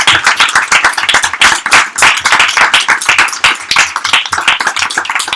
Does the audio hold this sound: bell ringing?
no